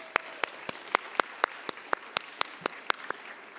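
Scattered, sparse clapping from a small audience at a medical diversity symposium, each clap sharp and distinct in an uneven rhythm, moderately close with no talk over it.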